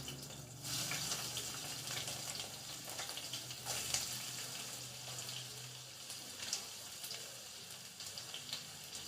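Onions hiss and crackle as they hit hot oil in a pan, a steady, moderately faint sizzle with a few scattered pops and stirring sounds.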